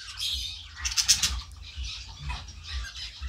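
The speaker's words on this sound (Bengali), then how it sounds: "এই পাখিটা দেখো একদমই বাচ্চা পাখি" A very young budgerigar chick, still barely feathered, gives soft, rapid chirps and squeaky calls close by, in short clustered bursts with small rustles between.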